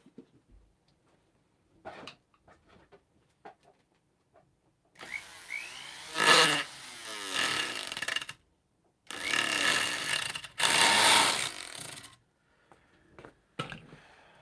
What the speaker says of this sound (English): be quiet for a few minutes and do some sanding